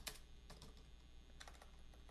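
Quiet, steady typing on a computer keyboard, with rapid irregular key taps and a few slightly louder strokes, heard alone with no voices.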